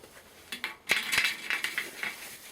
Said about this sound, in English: put them into that glass jar